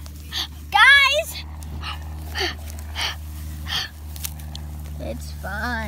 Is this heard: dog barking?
yes